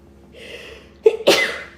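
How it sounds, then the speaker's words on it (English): One loud nearby sneeze from a woman: a rising breathy inhale followed by a sharp explosive burst, alone in a quiet room. "That was like 18 sneezes in a row."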